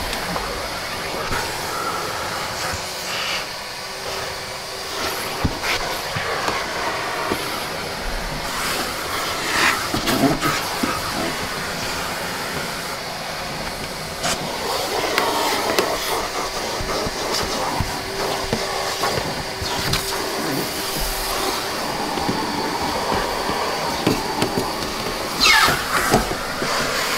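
Numatic George vacuum with its upholstery tool cleaning a car's front passenger seat, a steady broadband whooshing suction that continues throughout with shifting scrapes and bumps as the nozzle moves.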